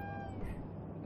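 A cat meows in a video game, a short cry over a steady low ambient hum, moderately close, with no talk.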